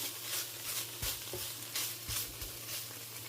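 Cauliflower masala frying in hot oil in a pan, with a steady close sizzle and occasional soft scrapes and knocks as it is stirred, no voices.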